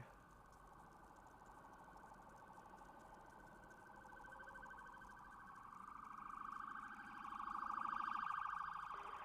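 An ambulance siren wails, rising and falling, growing louder toward the end over a steady engine drone at Myrtle Beach International Airport, with faint talk underneath.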